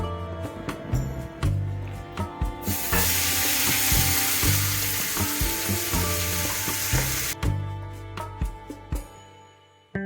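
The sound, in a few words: onions frying in oil for Malabar fish biryani masala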